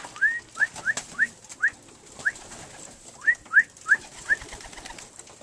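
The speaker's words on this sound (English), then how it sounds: "Just want to show you some of my young birds here." Young pigeons make a run of soft, rising calls, around ten short notes, while being hand-fed peanuts. The calls sound close, over quiet background rustle and light tapping.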